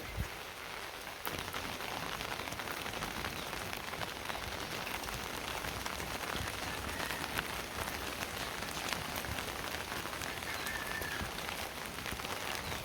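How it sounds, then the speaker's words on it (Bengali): Monsoon rain falls steadily and evenly on a surface beside an outdoor cooking stove, a constant pattering hiss with no voices. "বর্ষাকালে এই অসুবিধা বেশি সারাক্ষণ কালে বৃষ্টি থাকে"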